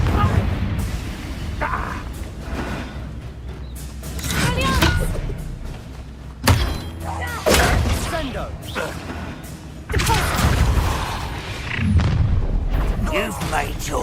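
Confringo explosive spell blasts in the Hogwarts Legacy game: repeated booming thuds, with strong hits around six and a half and ten seconds, set in loud battle noise while voices talk throughout.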